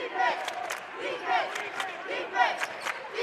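High school basketball crowd in a gym chanting for defense in rhythmic repeated shouted phrases, loud group voices pulsing with squeaks and thuds beneath.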